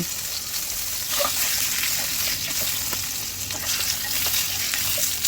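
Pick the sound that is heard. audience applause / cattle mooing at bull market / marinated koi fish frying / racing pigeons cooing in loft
marinated koi fish frying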